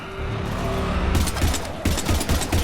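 Rapid bursts of gunfire from the video game Mass Effect Legendary Edition crackle close and loud, clustering into dense volleys in the second half.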